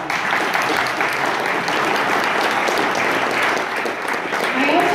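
Audience applause at a Reagan Day political gathering in Cranbury, a loud, dense sustained clapping from a full room, steady throughout with a murmur of voices mixed in.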